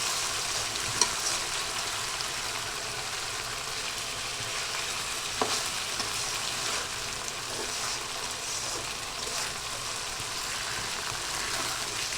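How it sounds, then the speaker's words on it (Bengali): Chicken masala sizzles and fries in a pan under steady stirring, a continuous crackling hiss with a few soft scrapes and knocks of the spoon against the metal. "আবার একটু নাড়াচাড়া দিচ্ছে"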